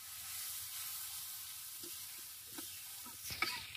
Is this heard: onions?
yes